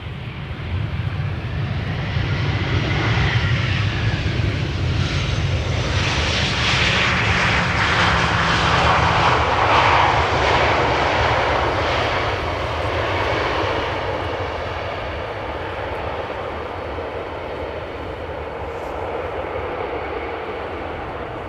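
An airliner landing at Amsterdam Schiphol Airport roars past loudly, its engine noise building with a sweeping whoosh, peaking midway, then fading into a lower sustained rumble as it moves away.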